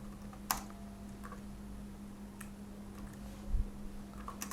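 Typing on a computer keyboard, sparse soft key clicks spaced out over a steady low hum, faint and with no talk.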